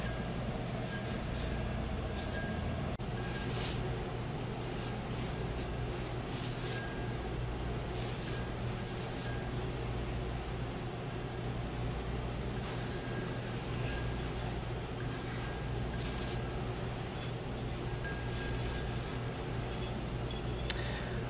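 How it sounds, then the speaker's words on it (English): Pencil scratching and sketching a face onto a ceramic goblet at a pottery painting place, a steady soft scraping with short bursts of strokes over a constant low room hum, no talking. "we're going to sketch the face onto the front of the mug."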